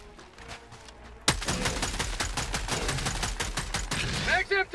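Machine gun fire in a video game erupts after a quiet moment into a fast, loud, close run of rapid shots that continues to the end.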